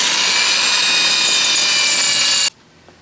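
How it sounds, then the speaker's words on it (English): Loud, steady whine of a power drill boring into a cast iron lathe belt guard, holding a constant pitch for a few seconds before stopping abruptly into near silence. "This will be easy drilling because it's cast iron."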